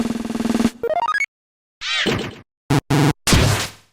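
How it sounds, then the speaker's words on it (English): A run of Deltarune Chapter 1 video game sound effects plays back to back: a buzzy repeating tone, a rising stepped chime, swooshing sweeps, short bright blips and a crashing burst, each separated by brief gaps. "I have a file of 151 Deltarune sound effects from Chapter 1"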